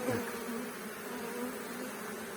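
A swarm of honeybees buzzes softly and continuously at a distance, a faint steady drone with slight rises in pitch.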